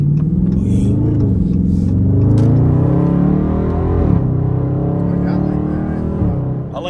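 A Dodge Scat Pack in track mode gives a loud, deep engine drone that climbs in pitch, shifts gear hard with a sudden drop, then climbs again, heard from inside the car.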